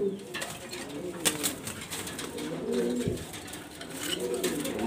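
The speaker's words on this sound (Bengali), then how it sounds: "এই কবুতরটা মাশাআল্লাহ টপ কোয়ালিটি" Grizzle racer pigeons coo in a loft, with repeated soft, throaty rolling calls close by, several overlapping, along with a few wing flutters and light knocks.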